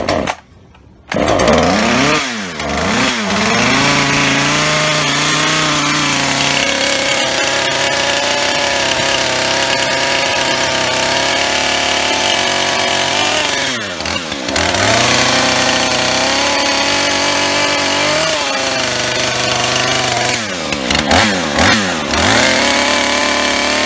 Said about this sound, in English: So let's go ahead and use our chainsaw.